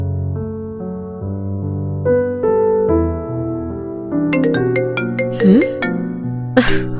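A phone ringtone plays in the Roblox Brookhaven game, a bright synthetic melody of stepped tones ringing steadily and loud for several seconds, with a few sharper chime notes near the end.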